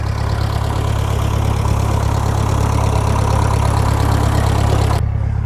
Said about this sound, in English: Just listen to the hum of the engine of that tractor here. It's a grey Ferguson 35.